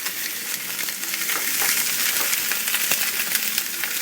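Sausages sizzle and fry steadily in a hot pan as they brown, a constant bright crackling hiss with small pops, close and even, no voices.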